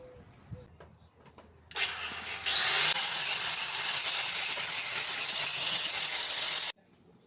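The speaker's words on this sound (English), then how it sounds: "Just going to hit these with a grinder now lightly, the wire wheel" Angle grinder fitted with a wire wheel working lightly over new timber beams, a loud steady abrasive whir that starts after a brief quiet lead-in and runs continuously for several seconds before cutting off abruptly.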